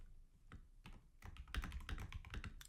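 Fingers tap on a computer keyboard, a few scattered keystrokes giving way to a quick, close burst of clicky typing.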